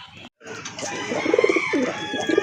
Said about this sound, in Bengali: আরেক জোড়া কবুতর, এটা অবশ্য দেশি কবুতর, গোল্লা কবুতর